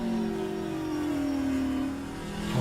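A race car with a Hemi engine accelerates during a Trans Am TA2 championship race at VIR, its engine note loud and steady with a rising, sustained roar throughout.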